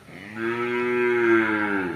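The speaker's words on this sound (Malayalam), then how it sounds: "ജല്ലിക്കെട്ട് കാളെ" A jallikattu bull gives one long, loud, close moo lasting nearly two seconds, steady and resonant with no voices over it.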